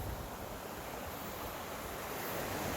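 Water pours down the old spillway of a disused power plant and pools below, a steady, loud broadband rush like surf that stays constant throughout with no voices.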